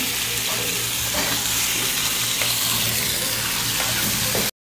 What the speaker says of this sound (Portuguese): Colocar o frango aqui para grelhar.